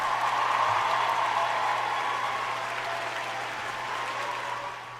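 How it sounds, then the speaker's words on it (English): Sustained applause from a crowd, steady and loud throughout, tapering slightly toward the end. "give her a round of applause"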